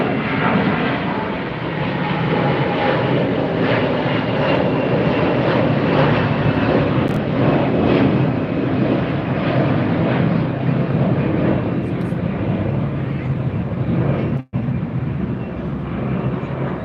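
An Air Canada airliner at LAX airport, its jet engines producing a loud, continuous, broad roar that holds steady throughout, with a brief dropout near the end.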